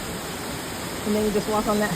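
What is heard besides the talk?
Oregon waterfall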